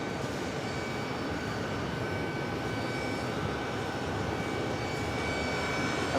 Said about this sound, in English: We have a Dreamliner 22 right arrival.